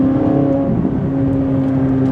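A Corvette C8 Z06 fitted with an Eventuri cold air intake accelerates hard in fourth gear at about 60 mph, its engine a loud, steady, close-up roar with a strong tonal drone and no voices.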